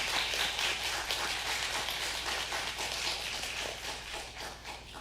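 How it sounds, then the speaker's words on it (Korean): Church congregation at a Sunday worship service claps in thanks after a sermon, a soft, fairly distant patter of hands that holds steady and tapers slightly toward the end. "감사의 인사를 박수로 드리겠습니다."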